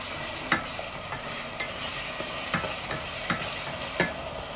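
Onions and tomato paste are stirred in a smoking pan, a steady sizzle punctuated by regular scraping strokes about every half second to second, close and moderate, without voices.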